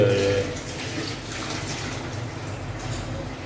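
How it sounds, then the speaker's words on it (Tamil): Tamarind water poured into a village-style sardine fish curry, a steady splashing liquid pour that starts strong and continues evenly, close and fairly loud. "இன்னொரு வாட்டி அப்படியே தண்ணியை ஊற்றிட்டாரு, புளி தண்ணி"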